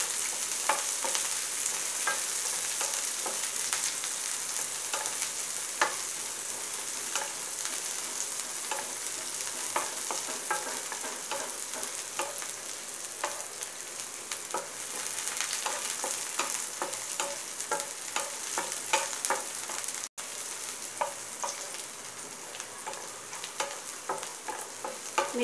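Onions frying in a pan for a Malvani prawn masala, browning over a steady, dense sizzle that runs unbroken with light stirring scrapes layered throughout.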